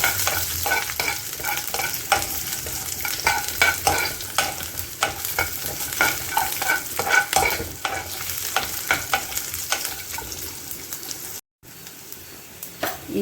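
Crushed garlic frying in tempering oil with peanuts for a fenugreek-leaf junka, a steady dense sizzle broken by repeated scraping stirs of a spoon against the pan, close and continuous.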